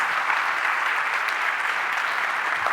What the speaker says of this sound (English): So can we do a round of applause to our ambassadors over here?